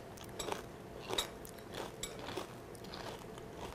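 Blue tortilla chips dipped in tomato chipotle salsa are bitten and chewed, with several soft, close crunches in an uneven rhythm over a faint background hiss.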